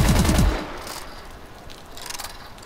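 Two S-12 shotguns firing together at 600 and 666 rounds per minute in Call of Duty Advanced Warfare, a fast loud overlapping volley lasting about half a second, followed by quieter echoing noise.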